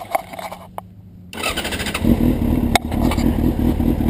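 A motorcycle engine fires up after a couple of brief clicks and short silence, then settles into a loud, close, steady running rumble with a sharp tick partway through.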